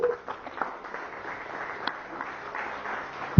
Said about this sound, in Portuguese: Dê um aplauso a Jesus então.